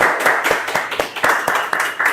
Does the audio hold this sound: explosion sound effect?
no